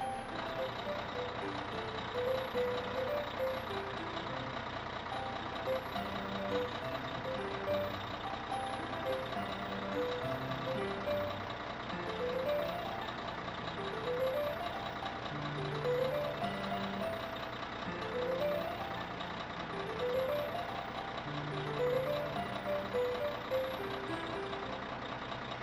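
A cartoon truck engine hums and runs steadily under repeating tonal music-like beeps, with rising chirpy motifs recurring as it drives off.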